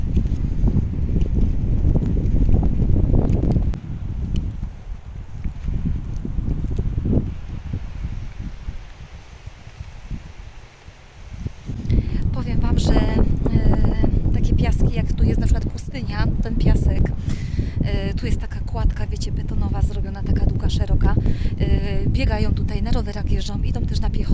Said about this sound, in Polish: jeszcze ten wiatr, szum